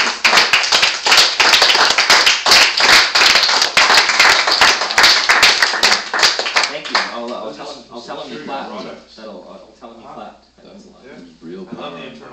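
Audience clapping after a poetry reading at a town presentation: a burst of brisk, fairly close hand claps for about seven seconds, then tapering off as people begin talking.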